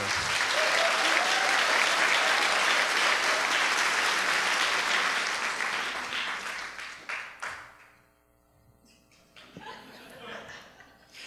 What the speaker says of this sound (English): I want you to clap this much for the Cuban Club for hosting us at this wonderful venue.